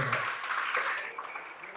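Church congregation at a Sunday service in Batam applauding during a sermon: a dense, steady wash of many hands clapping together, moderately loud, tapering slightly toward the end.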